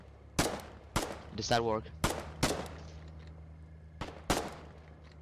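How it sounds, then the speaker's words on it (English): Single gunshots from a Foxhole match crack out at irregular intervals, six or seven loud sharp reports spaced across a few seconds, with a steady low hum underneath and a voice talking briefly between shots. "I'm gonna shoot next to you, Sensiel."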